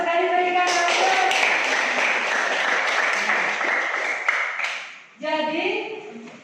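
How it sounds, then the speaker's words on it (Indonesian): Schoolchildren in a classroom clap together in a dense burst of applause lasting several seconds, then it fades and a teacher begins speaking. "berikan aplaus"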